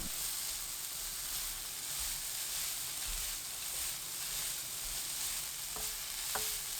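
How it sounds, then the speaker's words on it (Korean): Steady loud sizzling of carrots stir-fried over high heat in cooking oil with minced garlic, with a couple of faint utensil taps near the end. "지글지글 소리 나면 바로 당근 넣고 2분 볶아주세요."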